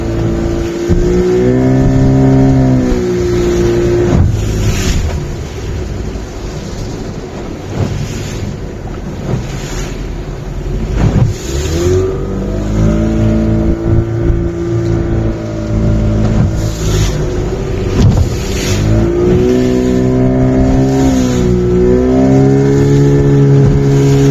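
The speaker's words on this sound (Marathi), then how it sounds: "होडी चालली आता" A fishing motorboat engine drones steadily throughout, its pitch rising and falling, with wind buffeting and water noise over open sea.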